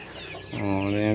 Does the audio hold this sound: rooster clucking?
yes